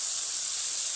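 Pre-fried shankar (stingray) fish sizzling in hot spiced oil, a steady, bright hiss that stays even throughout a single brief moment.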